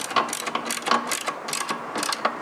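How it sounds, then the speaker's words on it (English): A hand ratchet snugs a nut on a Perry motorcycle roller starter, giving a steady run of close, rhythmic clicking strokes with no talking. "now I'm going to use the ratchet and a box end"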